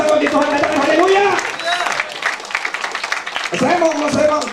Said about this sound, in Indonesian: Kita berikan tepuk tangan panjang bagi Tuhan